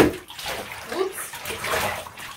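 Running water rinsing loose dye from dyed yarn, a steady splashing gush that swells in bursts, with a voice briefly audible.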